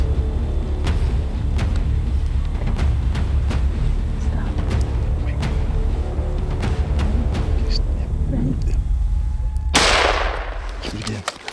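Rifle gunshot during a moose hunt in the Yukon wilderness: one loud, sharp blast near the end with a broad burst of energy, after a long stretch of steady noise and scattered clicks.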